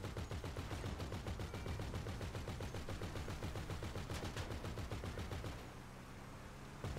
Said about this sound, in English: I'm just shooting a civilian